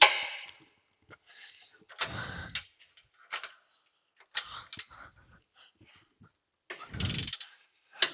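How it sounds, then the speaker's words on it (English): Ratchet wrench straining on a very tight pinion nut of a 2012 Dodge Charger, heard as several separate bursts of clicking and clunking with quiet pauses between them, close by and moderately loud. "Ratchet wrenches don't like things that are that tight."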